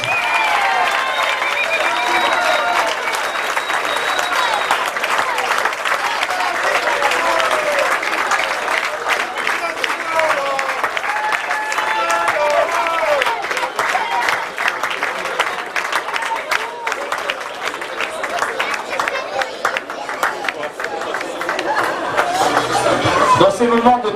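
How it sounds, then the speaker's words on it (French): Audience applauding warmly after a French club's post-match event, dense sustained clapping from a large crowd with chatter mixed in, steady throughout and swelling slightly at the end. "Je vous demande d'applaudir très chaleureusement Olivier Pérez et Erwan Guillet."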